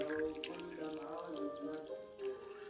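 Water pours into a pot of strawberries and oranges for a Lebanese fruit cocktail, a soft continuous running and gurgling stream that lasts a couple of seconds, close and moderately quiet.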